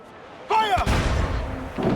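Ship cannon fire in Assassin's Creed Freedom Cry: a shouted voice is followed by a loud close boom with a rumbling tail, then a second blast begins at the end.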